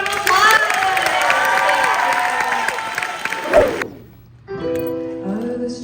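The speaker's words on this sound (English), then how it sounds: "Let's give her another round of applause!" A student audience at a university Filipino cultural night applauds and cheers loudly with shouting voices, then the noise cuts off abruptly and a quieter speaking voice with a faint tone follows.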